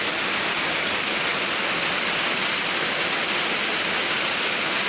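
Heavy rain pours down in a dense, unbroken hiss, loud and close, drumming evenly on surfaces without pause.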